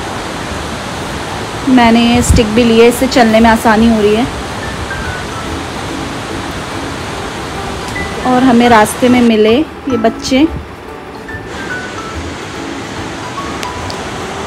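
River flowing beside a mountain trekking trail in Uttarakhand, heard as a steady broadband rush of water throughout, with people talking over it in two stretches.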